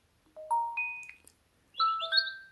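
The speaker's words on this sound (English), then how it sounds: "Then there's a default notification sound, like an email or something," The default notification chime on an LG Xpression 2 Plus smartphone plays as a few bright, rising electronic tones, a short pause, then another chiming pair. It is clean and moderately loud, with no talk.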